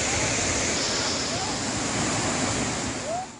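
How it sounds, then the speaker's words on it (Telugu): Waterfall in Hyderabad, with water surging over from overflowing lakes and ponds, makes a steady, loud, broad rushing roar that lasts throughout with no pauses. "హైదరాబాద్ లో జలపాతం ఓ హిమగీతమై ఉరకలు వేసే అద్భుతం ఇది."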